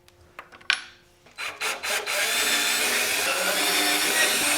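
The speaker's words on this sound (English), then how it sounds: "So I'm just gonna drill a hole out here." A power drill bores a 3/8 hole for an M8 bolt into a Lone Peak V2 camper. A few taps and bursts come first, then a steady loud whine that holds close with no talking.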